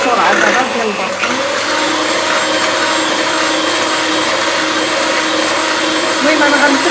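An electric mixer beats sponge batter for a Swiss roll, its steady motor whir holding loud and close for several seconds as the speed is gradually raised, with no talk over it.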